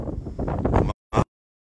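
Strong wind buffets a microphone outdoors in Errachidia, a loud rumbling roar that surges for nearly a second, cuts out, then returns in one short gust before silence.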